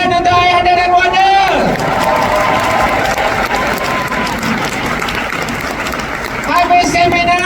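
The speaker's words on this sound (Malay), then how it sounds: "Tepukan untuk ayahanda dan wanda." Loud, sustained applause and crowd noise fill a large hall at an Amway recognition mega rally in Kuala Lumpur and Selangor, with a voice speaking over the start and end of the clapping.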